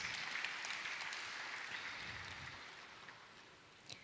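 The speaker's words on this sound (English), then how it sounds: "Please give him a round of applause." Audience applause at a medical lecture on psychiatric symptoms, a continuous crackling wash of many hands clapping at moderate loudness that slowly tapers, with a faint low murmur beneath and no clear speech.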